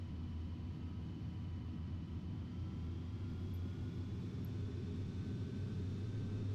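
Airliner taking off down the runway in Flight Simulator X, a steady, loud low engine rumble with a faint high whine, continuous and unbroken with no voices.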